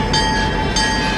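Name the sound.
train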